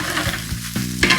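Pork and Chinese kale stir-frying in a hot pan, a loud close sizzle broken by a few scraping stirs of the spatula.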